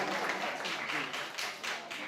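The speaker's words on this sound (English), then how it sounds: "Applause." Scattered clapping from a seated audience at a public speaking workshop, fairly quiet and uneven, fading slightly toward the end.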